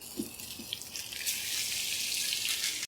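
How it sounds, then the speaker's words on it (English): A tablespoon of butter sizzling in a hot pan alongside salmon fillets: a soft, steady hiss that swells after about a second and carries on evenly, with a few faint pops early on. "I'm just going to add a tablespoon of butter right to the pan."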